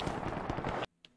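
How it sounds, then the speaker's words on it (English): A dense, rapid burst of gunfire in a World War II shooter video game, loud and continuous, cutting off abruptly into near silence with one faint distant pop after. "I'm hearing gunfire to the right."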